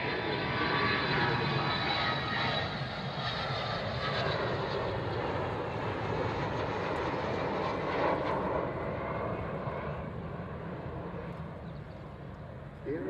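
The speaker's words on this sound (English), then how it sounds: "So Vulcan coming back in towards us." An Avro Vulcan bomber flies past at the Royal International Air Tattoo airshow, a loud continuous roar of jet engines sustained throughout and slowly easing off, with a commentator talking over it.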